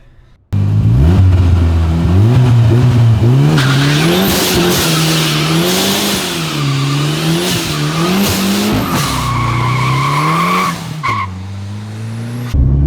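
A turbocharged Ford Ranger pickup does a burnout, its engine revving up and down loudly while the tires squeal steadily for about ten seconds before the revs drop.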